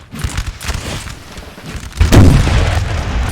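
Cannon and artillery fire in the video game Napoleon: Total War during a Borodino 1812 battle, with a steady barrage of booming shots that swell into a loud, heavy rumble partway through.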